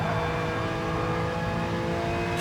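Race car engine held at full throttle around Suzuka in Gran Turismo Sport, a steady dense roar with layered harmonics running loud and unbroken through the whole stretch, no voices over it.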